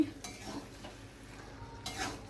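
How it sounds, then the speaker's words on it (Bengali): Mixed vegetables of cabbage, beans and potato with a hilsa fish head being stirred in a wok, with quiet scraping strokes and a couple of louder utensil scrapes against the pan over a soft sizzle. "আমরা ভালো করে সমস্ত সবজি মিশিয়ে নেব"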